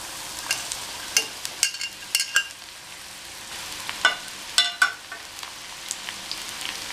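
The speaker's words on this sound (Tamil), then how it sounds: "கறிவேப்பிலை கொஞ்சம், இதையும் கொஞ்ச நேரம் வதக்கிக்கலாம்." Curry leaves and onions sautéing in a pan, a soft continuous sizzle punctuated by scattered scraping and tapping of a spatula as they are stirred, close and without talk.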